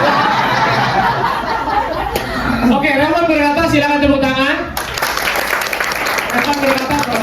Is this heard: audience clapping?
yes